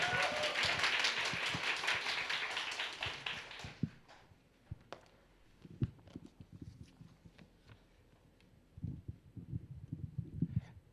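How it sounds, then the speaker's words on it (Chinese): Church congregation clapping to welcome a guest teacher to the pulpit at a Sunday service, a dense burst of applause for about four seconds that cuts off, followed by scattered thumps and shuffling in the room. "我们用最热烈的掌声欢迎我们的曾宗盛老师"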